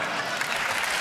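Dense, steady audience applause fills the whole moment at a German cabaret comedy show, a continuous wash of many hands clapping with no pauses.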